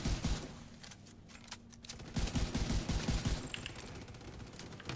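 Video game gunfire from a stationary player: rapid automatic bursts in several strings, loud and dense with a short lull in the middle, no talking over it.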